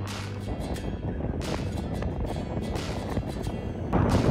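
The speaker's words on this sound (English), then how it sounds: "It's super windy here." Wind roars and buffets against the microphone in gusts, with a rumbling low rush throughout and a stronger blast at the end.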